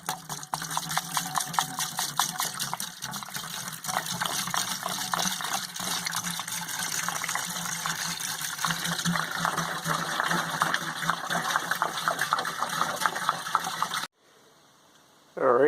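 Yanmar marine diesel engine running while Prestone antifreeze is flushed through it, a steady close mechanical chatter with a liquid gushing wash over it, continuous for about fourteen seconds before stopping abruptly.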